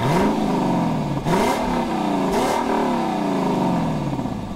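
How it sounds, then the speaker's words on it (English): A 2018 Lexus LC 500 with variable exhaust in Sport S Plus mode, the engine revving hard and climbing in pitch repeatedly, loud and close, with brief breaks between surges as gears shift. "In the most responsive Sport S Plus drive mode, the variable exhaust gets maximum snarl."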